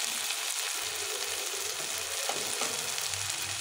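Salt, turmeric and ground cumin frying in a pan for a home-cooked dish, a steady close sizzle with faint stirring scrapes running through.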